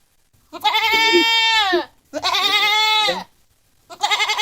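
A goat held down for an injection bleats loudly and close, three long wavering cries with short gaps between them, the last one cut off, and no talk over them.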